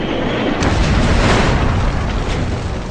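A missile's proximity-fused warhead detonating beside a military jet in aerial combat, heard as one sustained, loud, rumbling boom that swells and fades over a few seconds with no voices.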